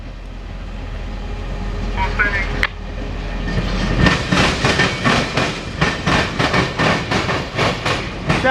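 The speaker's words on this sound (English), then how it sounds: "got the local train backing up" A CSX local freight train reverses through Marion, Ohio. A low rumble builds, then rhythmic clickety-clack from the wheels crossing rail joints repeats steadily and close by.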